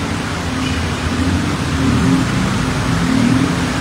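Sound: heavy rain falling on flooded street

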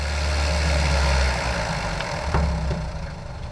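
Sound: light aircraft engine run-up at 2,000 RPM, misfiring

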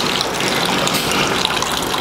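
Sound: water flowing into soda filling plant line

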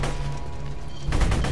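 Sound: gunfire in Borderlands 2 video game

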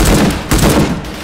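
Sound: gunshots in video game H3VR

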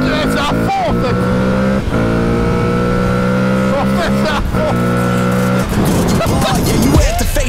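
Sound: car engine noise while driving in Portugal

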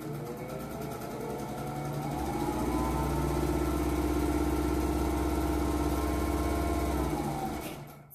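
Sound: vintage Singer 101-4 sewing machine running

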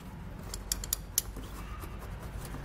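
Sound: tightening cams on pewag tire chains

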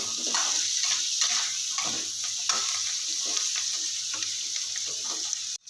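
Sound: vegetables frying in a pan

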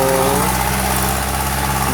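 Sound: six-wheel truck engine arriving

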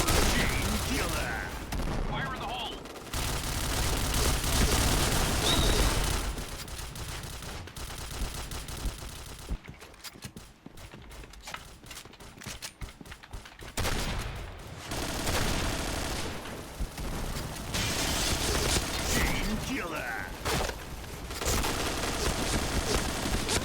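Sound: automatic gunfire in a video game

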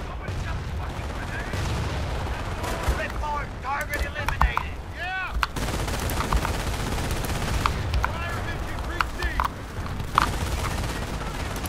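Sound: turret gunfire in the video game Company of Heroes

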